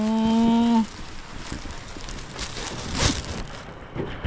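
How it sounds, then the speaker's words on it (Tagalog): Sudden heavy rain pours down steadily outdoors after a brief tonal sound at the start, forming a dense, continuous hiss with scattered louder splashes. "bigla naman pong tumudo ang ulan"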